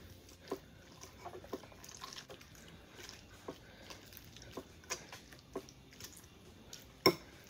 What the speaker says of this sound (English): the first step we're going to do is mash up our strawberries